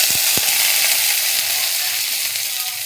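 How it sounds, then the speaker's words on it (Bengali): Garlic cloves and green chillies sizzle in hot oil in a wok, a steady dense frying hiss heard up close and alone, with a couple of brief knocks early on. "রসুনটা আর কাঁচা লঙ্কাটা আমি ভালো করে লাল করে ভেজে নিলাম"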